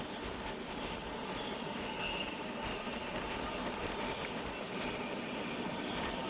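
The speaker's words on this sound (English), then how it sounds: "With the rain in the night, the Himasagar Express moves towards the next destination, towards Renigunta Railway Station." The Himasagar Express rolls through the night in rain on an Indian line, a steady, continuous rumble of wheels and carriages with faint squeals, heard without voices.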